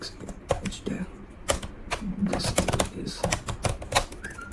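Fast, uneven clatter of typing on a computer keyboard while a simple web page is coded, with sharp close keystrokes in irregular bursts and a voice speaking in between.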